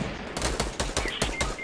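Rapid bursts of automatic gunfire in the video game Fortnite crackle in quick succession, about seven sharp shots close together over under two seconds.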